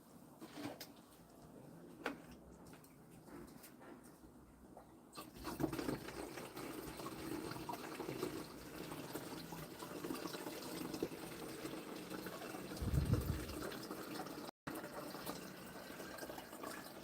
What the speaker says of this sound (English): I've got some water here that I'll just put in.